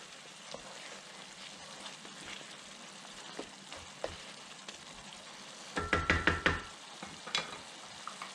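A spoon scrapes and stirs picadillo in a frying pan after salt and pepper go in, making a faint sizzle with soft taps and then a quick burst of louder scraping strokes near the end.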